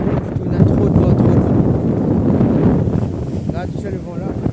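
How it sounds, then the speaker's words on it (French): Strong seaside wind at Pointe au Sel during shore fishing buffets the microphone in a continuous loud roar, with gusts rising and falling and no clear talk. "Il y a trop de vent."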